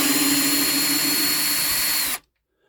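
A power drill on torque setting 8 drives a screw lubricated with soap or candle wax, a steady close whirring whine for about two seconds that stops abruptly into silence.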